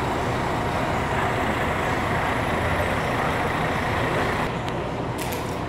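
A Paradiso 1200 coach bus idles and rumbles at the Ipatinga bus station in Minas Gerais, a steady loud diesel drone with a brief hiss near the end, no talking.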